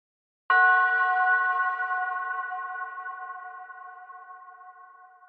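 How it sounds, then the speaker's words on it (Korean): A single temple bell struck once after a short silence, a clear metallic tone with rich ringing overtones that decays slowly and evenly over several seconds, heard alone and close. "그는 첫 종소리를 들었다."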